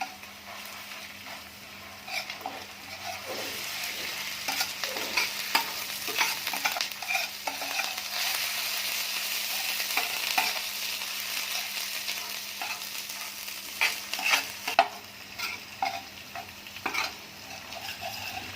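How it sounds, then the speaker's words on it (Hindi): Steady sizzling in a hot pan with frequent scraping and stirring strokes, ginger garlic paste with onion frying close by with no talking. "इसको भी फ्राई कर लेंगे अच्छी तरह से।"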